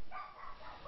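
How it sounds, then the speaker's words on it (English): A pet dog letting out a brief, faint whining yelp, under a second long, thin and somewhat distant. "That's a dog. That is my dog."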